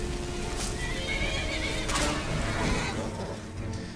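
A horse whinnies in Skyrim over a dense, noisy game soundscape with clip-clopping hooves, loud and continuous throughout.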